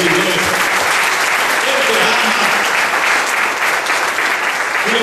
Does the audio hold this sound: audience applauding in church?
yes